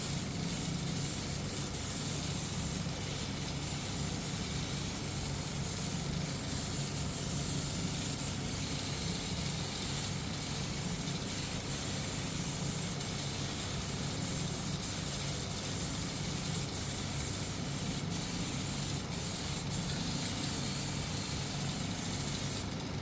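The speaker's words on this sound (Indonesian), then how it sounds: "ini kita semprot lagi untuk clearnya. Kita semprot secara tipis dan merata." Aerosol clear coat hisses out of a can onto a motorcycle CVT cover in thin even passes, a steady close spray that carries on without pause for the whole stretch, with no talking.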